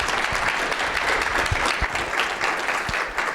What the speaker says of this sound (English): let's give the panelists a round of applause